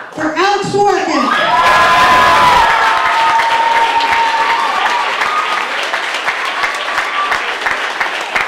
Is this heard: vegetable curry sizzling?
no